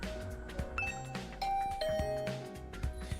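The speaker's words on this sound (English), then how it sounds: "I rang the doorbell to Tsubasa's room." A bright two-note electronic doorbell chime from the video game The Hundred Line: Last Defense Academy rings out over a busy, layered musical background, soft and synthetic in tone.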